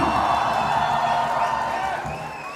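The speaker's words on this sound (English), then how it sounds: "a big cheer for Ayush and Maima for Anthem!" A crowd at a promotional event for the film Antim cheers loudly for Aayush Sharma and Mahima Makwana, a dense, sustained roar that fades slightly toward the end.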